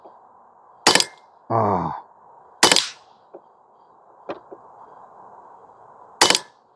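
Western Airguns Sidewinder .22 air rifle fired in semi-auto, four sharp loud cracks spaced out unevenly over several seconds, with a brief exclamation from a voice between shots and faint clicks.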